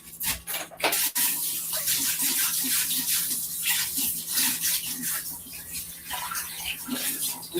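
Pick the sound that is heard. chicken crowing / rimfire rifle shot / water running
water running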